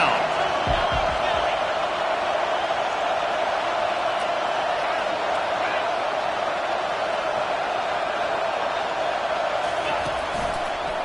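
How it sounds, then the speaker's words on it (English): Home stadium crowd noise from the NCAA 25 college football video game on a third down: a steady, dense roar of fans runs throughout, with occasional thumps and a commentator talking over it. "Here comes this home crowd as the defense tries to get off the field on 3rd down."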